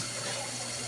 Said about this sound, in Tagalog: Pagkatapos niyang mag-drain, automatic, nagkakarga na naman siya ng tubig na mainit galing sa boiler.